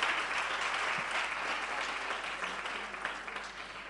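Audience applause at a 2013 short-story contest award ceremony as a third prize is announced: a dense, steady wash of many hands clapping together, fairly loud and unbroken, with no speech over it.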